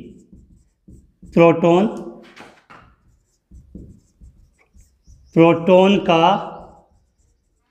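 A teacher writes on a board during a Hindi general science lesson on atomic structure. Faint scratchy strokes are heard between and under the teacher's spoken phrases.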